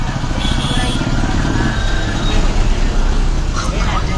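A bus engine drones loudly inside the cabin during a ride near Pedaravuru, with road and traffic noise around it and people talking over the rumble.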